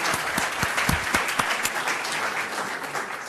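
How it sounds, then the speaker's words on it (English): An audience at a history talk breaks into steady applause, a dense wash of many hands clapping at constant strength for the whole stretch. "So I would like a round of applause."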